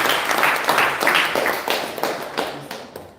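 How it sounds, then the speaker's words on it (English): Participants at an agroforestry workshop clap for the facilitators, a lively round of many hands applauding nearby that gradually fades toward the end. "Please clap for the facilitators."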